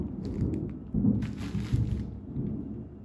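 Rumbling thunder from an approaching storm rolls low and steady through a quiet indoor space, swelling slightly partway through without any voices.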